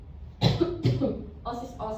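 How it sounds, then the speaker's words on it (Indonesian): A woman coughs twice in quick succession, close and fairly loud, and then faint voiced sounds follow. "maaf Ibu batuk"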